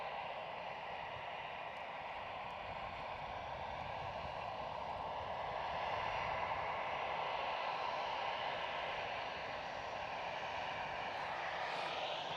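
EasyJet airliner at Edinburgh Airport, heard as a steady, broad jet engine roar from a moderate distance, continuous and unbroken with no talk.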